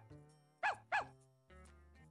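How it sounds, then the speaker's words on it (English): Two short, sharp dog barks from a cartoon dog in the Blue's Kindergarten video game, evenly spaced and clear over soft background music, with no talking. "B is for bark."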